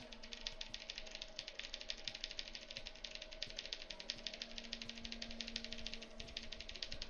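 Computer keyboard keys tapped rapidly and repeatedly in a steady fast stream of faint clicks, continuous and even under a quiet background hum.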